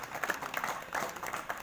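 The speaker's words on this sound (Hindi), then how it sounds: "सबके लिए जोरदार ताली बजा दो" Audience at a devotional gathering clapping together, a steady patter of many hands at moderate distance, faint and continuous throughout.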